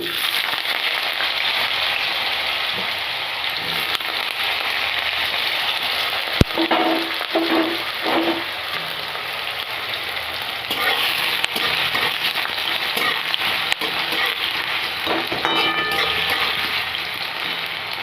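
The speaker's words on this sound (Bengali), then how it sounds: "তো আলুগুলোকে আমি একটু হালকা করে ফ্রাই করে নেব" Potatoes fry lightly in oil with bay leaf in a pan, a steady close sizzle with soft bubbling and occasional stirring clinks and scrapes, continuing unbroken with no talk.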